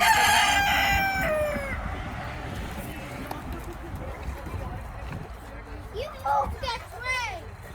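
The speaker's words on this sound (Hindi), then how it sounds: "मुर्गियों के साथ खेल रहे हैं।" A rooster lets out a loud cock-a-doodle-doo, then chickens cluck and squawk around it while children play and chatter nearby.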